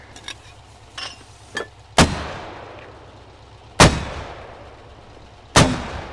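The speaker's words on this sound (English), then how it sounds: "we're just going to fire 6-round salvo" Mortar fire in the Squad video game: a salvo of loud, sharp booms, three main blasts spaced about two seconds apart with ringing decay, preceded by fainter clicks and thumps.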